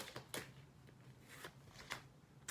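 Tarot cards being shuffled by hand in soft, papery riffles and flutters, faint and close, with no talking.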